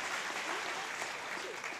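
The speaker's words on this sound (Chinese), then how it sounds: "掌声一下" Faint, steady applause from an audience at a medical service awards ceremony, a soft continuous wash of clapping from a distance.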